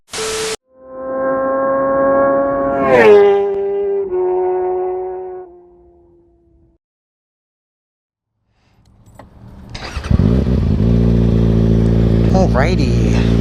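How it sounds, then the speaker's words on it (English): A car exhaust blares loudly with a harsh, droning tone that fades out, then after a brief silence a deep, rumbling exhaust roars again. "Why the fuck would you put an exhaust like that on your car?"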